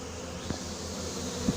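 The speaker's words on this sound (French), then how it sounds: "Voilà les abeilles." A large swarm of honey bees being hived, giving a steady low buzzing drone throughout with a couple of brief louder bumps, no voices.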